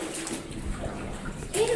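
Someone wading into cold underground water at Shoremead Fort, the water sloshing and splashing steadily with a louder surge at the end and faint voices mixed in.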